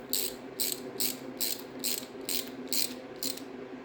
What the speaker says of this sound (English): we're going to tighten it until the nut basically stops